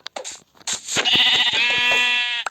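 Video game sheep bleating, a few short clicks and bumps followed by a long, loud, wavering bleat that fills most of the clip and stops sharply.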